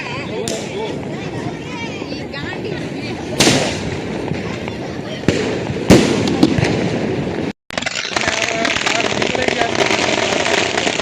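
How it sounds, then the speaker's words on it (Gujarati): Diwali firecrackers burst outdoors in several sharp, loud bangs spaced a few seconds apart, with crackling and a constant background roar while people talk and shout nearby. "આ બધા ફટાકડા ફોડે છે સરસ મજાના"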